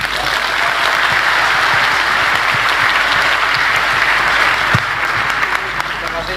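A Surabaya crowd gives Rocky Gerung a loud, sustained round of applause, dense clapping that holds steady from start to finish with a few sharper claps standing out.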